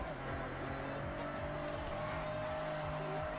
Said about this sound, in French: petit drift